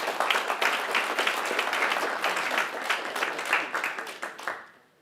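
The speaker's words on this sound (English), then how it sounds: "give a round of applause for yourselves." Loud, sustained applause from a crowd at a civil rights event, dense clapping across the room that gradually dies away near the end.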